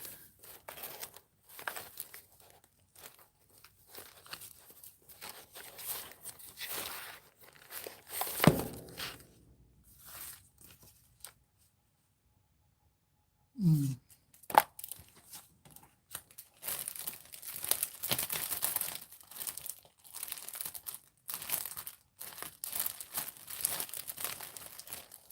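Old calendar paper being cut and handled, with steady crinkling, rustling and tearing close up, a brief pause partway through, then denser crinkling.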